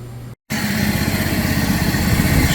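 A 2007 John Deere zero-turn mower engine, with oil in the muffler after carburetor and head gasket repair, runs loud and close after a brief dropout, holding a steady, throbbing idle.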